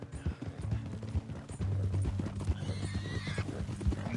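A horse clip-clops along at a steady walk in Red Dead Redemption 2, hooves knocking in an even rhythm up close, joined by a short whinny and snorting, with no talk.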